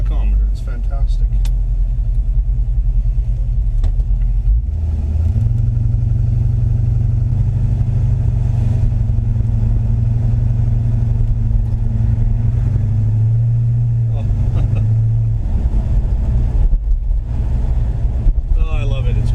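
A 1957 Chevy Bel Air engine rumbling loud and steady from inside the moving car, with the pitch rising partway through as it picks up speed; someone talks over it at times.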